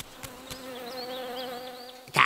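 A cartoon swarm of bees drones steadily under a background music bed, with faint wavering buzz tones drifting over it and a brief louder burst at the end.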